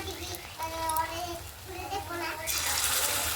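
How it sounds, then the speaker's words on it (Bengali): Battered cauliflower fritters are dropped into hot oil, and a loud, bright sizzle bursts up near the end after a quieter stretch carrying faint tonal background sounds. "তেলটা গরম হয়ে গেছে তেলের মধ্যে ছেড়ে দিলাম"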